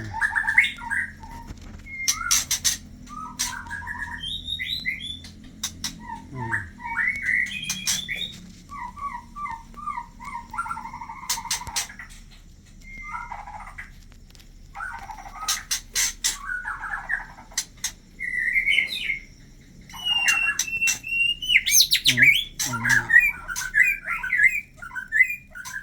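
Pet birds and their chicks call from close by in bursts of chirps and harsh squawks, some thin and whimpering, with brief quiet gaps between them and no talk.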